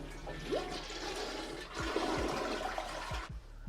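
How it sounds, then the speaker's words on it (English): A toilet flushing after being cleared with an auger, a loud rushing swirl of water that builds and drains, close by with no talking. "You're going to want to flush that toilet."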